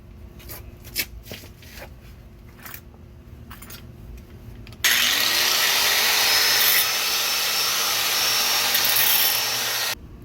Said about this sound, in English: Now I'm going to grind it down, shape the edges.